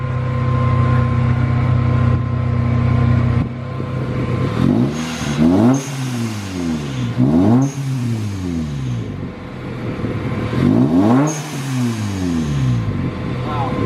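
A supercharged manual Toyota Tacoma with a new exhaust revs repeatedly, loud and close: a steady idle, then several rising and falling blips in quick succession with a deep, full tone.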